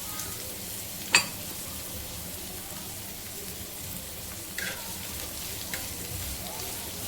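Garlic sizzles in hot oil with curry leaves in a pan for a dried prawn curry: a steady, close frying hiss with a few sharp utensil clicks and no talking.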